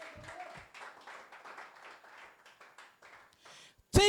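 A church congregation clapping for the Lord during a service, a sustained scattered round of applause with many hands that fades out toward the end, followed by a sudden loud burst.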